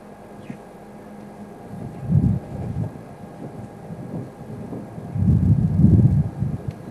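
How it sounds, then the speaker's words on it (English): Gusty wind buffets an outdoor savanna scene near water where Cape buffalo graze, with low rumbling blasts swelling and fading in two stronger surges. "It's getting very windy now."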